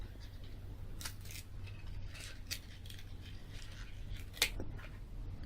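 Scissors snipping away excess paper in several crisp, separate cuts, close and fairly quiet over a low background hum, with one sharper metallic clink near the end.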